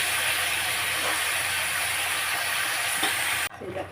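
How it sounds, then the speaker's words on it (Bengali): Ridge gourd sautéing in a pan with turmeric, cumin, green chilli and salt gives a loud, continuous sizzling hiss that cuts off abruptly near the end, leaving quieter frying behind. "এবারে একটু কষতে থাকবো।"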